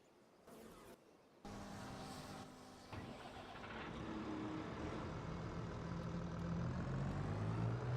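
A Kubota tractor engine in Farming Simulator 25 starts up and settles into a steady, low diesel drone that grows gradually louder and fuller over several seconds.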